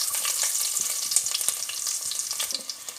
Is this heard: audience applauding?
no